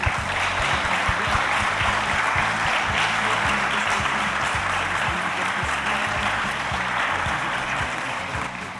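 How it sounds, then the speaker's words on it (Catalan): An audience at a live podcast event opening a summer university gives sustained, even applause for Aina, a broad wash of many hands clapping steadily for the whole stretch and fading slightly at the end. "Un aplaudiment per a ella."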